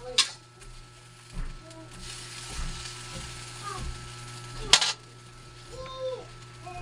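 Pansit noodles sizzle and fry softly in a pan, with occasional stirring clatter and clinks over a steady low hum; no talking.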